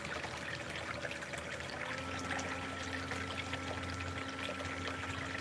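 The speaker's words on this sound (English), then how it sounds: "And now he's running it down the sluice." Water pours steadily through a backyard gold prospecting sluice running Ohio material, a faint, continuous rushing trickle with a low hum beneath, heard without any talking.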